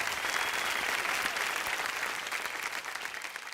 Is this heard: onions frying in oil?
no